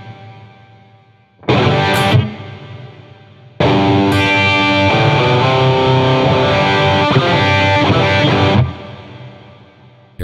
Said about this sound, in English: now that we have hall reverb on it